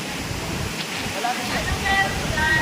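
Steady broadband rush of Tukuran Falls in San Teodoro, Oriental Mindoro, a continuous waterfall roar filling the scene, with faint voices and a few thin bird-like whistles over it.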